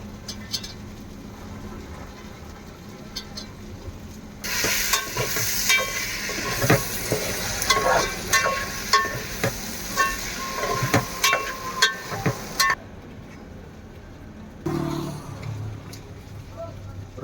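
Potatoes, beans and fresh green peas fry in a hot pan, with a loud sizzle and repeated scraping stirs over about eight seconds, while a voice talks before and after.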